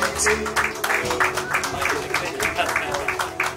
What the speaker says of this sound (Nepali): ठुलो ताली बजाएर अनुरोध गर्दछु